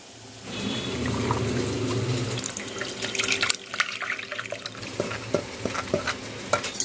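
Tomato and beetroot puree is strained for a homemade tomato sauce, with close, steady liquid sloshing and stirring through a strainer, then sharper scraping clicks toward the end; no one talks.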